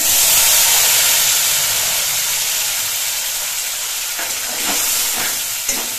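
Turmeric and cumin paste frying in hot oil with chillies, a steady loud sizzling hiss throughout, fading slightly, with a few brief stirring clatters near the end.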